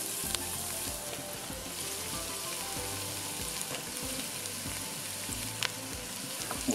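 Chili, peppers and mushrooms sizzle steadily in a hot pan, a dense close crackle with light clicks of stirring and no voices.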